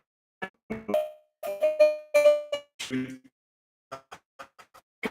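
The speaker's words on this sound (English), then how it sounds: "The bells." Bells chime in a series of bright, ringing strikes with short decaying tails, clustered at first and then sparser and fainter, heard during a Betrayal Legacy board game session.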